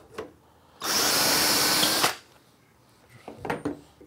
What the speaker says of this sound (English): clamp both clamp screws, and drill one